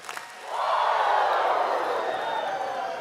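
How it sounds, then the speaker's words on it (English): High school graduates in a large crowd at a graduation ceremony, two quick claps followed by a long loud collective 'woo' in Ric Flair style that rises and then slowly fades. "Give me 2 claps and a Ric Flair."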